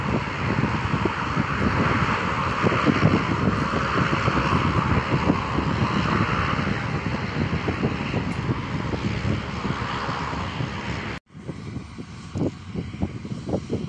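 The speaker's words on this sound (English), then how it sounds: "can you see the propellers moving? The plane is getting ready to take off." Propeller airplane on the ground getting ready to take off, with a steady loud engine drone and whirring propeller that continues throughout, briefly cut off near the end before resuming.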